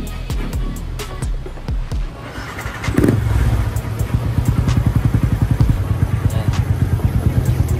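Sniper 150 motorcycle engine cranks and fires at about three seconds, then settles into a close, steady, rapidly pulsing idle after brief clatter and background noise.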